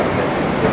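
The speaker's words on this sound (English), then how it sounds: "Transpennine coming in." A TransPennine train pulls into Manchester Airport station with a steady, loud rumble of rail wheels and carriages that lasts through the whole short moment.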